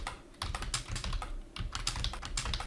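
Rapid clicking of keys on a computer keyboard as a row of question marks is typed, several quick bursts of close, crisp keystrokes with brief pauses and no talking.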